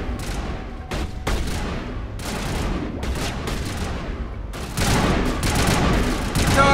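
Gunfire from a firefight in the video game Mass Effect Legendary: rapid bursts of shots and automatic fire in repeated volleys, loud and dense, with brief pauses between bursts.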